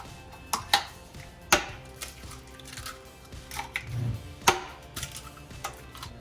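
Four eggs cracked for egg wash on a kitchen counter, giving a series of sharp, separate taps and cracks spread over several seconds with soft dribbling between them, close and fairly quiet, with no talk.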